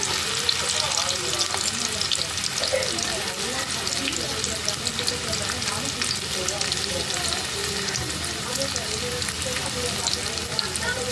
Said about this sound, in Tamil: கோல்டன் ப்ரௌன் ஆகிற வரைக்கும் ஃப்ரை பண்ணி எடுத்துக்கணும்